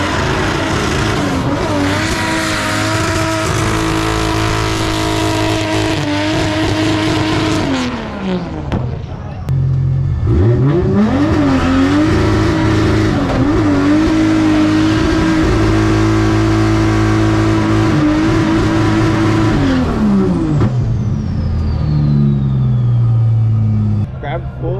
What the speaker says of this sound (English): slipping the clutch and trying to grip up instead of smacking gears and blazing